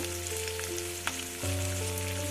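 Cumin seeds sizzling in hot oil with garlic for holige saaru, a dense, continuous close-up frying hiss that swells slightly partway through, with no talk.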